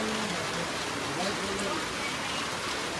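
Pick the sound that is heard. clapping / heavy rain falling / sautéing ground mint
heavy rain falling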